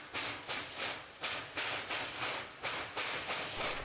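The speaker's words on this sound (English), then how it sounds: "The train slows as it comes to the end of the line in Frostburg," Western Maryland 734 steam locomotive slowing at the end of the line in Frostburg, Maryland, with a loud, close, rhythmic chuff of exhaust beats, about three per second, over a low rumble.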